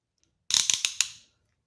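An iCrimp PEX clamping tool springs its handles open after cutting, a short burst of four or five close metallic clicks and snaps, then silence.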